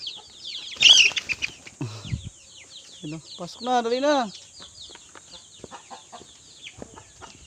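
Chicks cheeping and black Australorp hens clucking in a backyard coop at feeding time, a bright peep near the start followed by several busy bursts of clucks and calls, close and fairly loud, with a voice talking over them.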